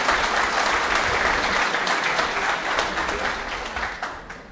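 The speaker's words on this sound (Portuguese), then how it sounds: "mais uma salva de palmas para o Instituto pela iniciativa" Audience at a national congress on Pietro Ubaldi's works bursts into sustained, dense applause from a large crowd, steady and loud throughout before thinning slightly toward the end.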